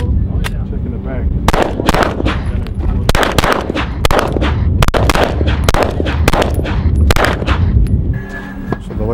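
Rapid, loud gunfire from .45 caliber handguns at an outdoor shooting range, sharp close reports firing in quick irregular strings with ringing echoes and a few brief gaps between volleys.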